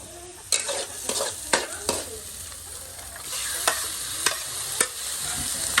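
Meat for dinakdakan fries in a pan with a steady broadband sizzle, broken by repeated sharp scrapes and clinks of a utensil stirring and turning the pieces, fairly close and with no talking.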